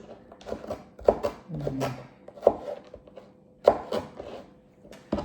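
A knife chopping food on a board in a home kitchen: a handful of sharp, irregularly spaced knocks, close and fairly loud, with a brief low murmur of a voice between them.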